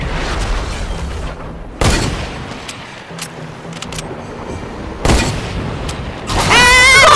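Rocket launches and booming shots in a video game mission protecting the president, with a few separate loud blasts over a steady background of game noise, ending in a rising, wavering whoosh.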